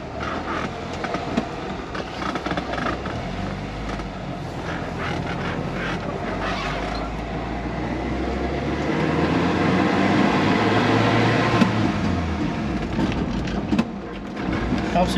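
An old Jeep engine, running after sitting parked for 15 years, roars loudly and steadily with a rough, rumbling drone that swells in the middle as it is driven.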